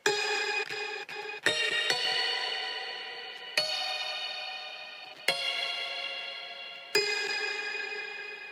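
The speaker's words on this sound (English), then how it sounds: "it's a chopped up a cappella, but used as like a synth shot" Chopped-up a cappella vocal slices play as a bright, reverberant synth shot in an electronic dance track build-up, with sharp repeated attacks that each decay into a sustained, echoing tone.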